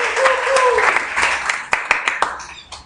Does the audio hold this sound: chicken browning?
no